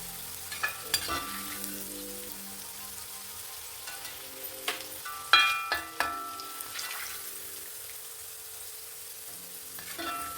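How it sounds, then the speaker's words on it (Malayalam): Bitter gourd pieces fry in hot oil with a soft, steady sizzle. Sharper crackles and a few clattering scoops of a ladle come through now and then, and no one speaks. "എണ്ണയിൽ ഇട്ട് നന്നായിട്ട് ഒന്ന് വറുത്തെടുക്കണം"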